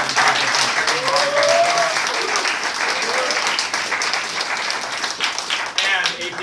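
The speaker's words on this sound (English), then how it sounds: "can we all give another round of applause for the incredible." A roomful of people applauding at an evening solidarity movement meeting, loud sustained clapping close by with a few cheers and voices mixed in, tapering slightly toward the end.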